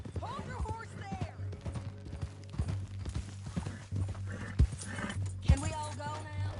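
Clip-clopping horse hooves and a horse's whinny amid Red Dead Redemption 2 game sound effects and a low steady hum, with voices speaking in between.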